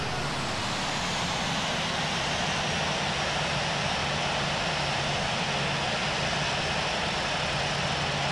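Southwest airliner engines roar at takeoff from San Francisco runway 28 left in the Infinite Flight simulator game, a loud, unbroken, steady engine drone with no voices over it.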